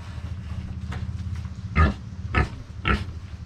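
Pig on a Mexican farm gives three loud, close grunts spaced about half a second apart, rising over a steady low rumbling background.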